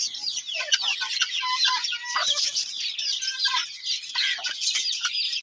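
A flock of chickens clucking and chattering busily, with overlapping calls and squawks close by, continuous throughout.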